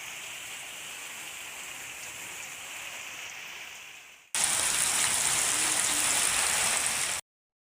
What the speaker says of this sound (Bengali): এত ঝড় বৃষ্টিটা হচ্ছে।